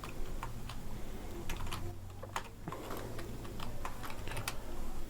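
Rapid keystrokes on a computer keyboard while typing Django code, an irregular run of light clicks and taps at close range over a steady low background hum, with no talking.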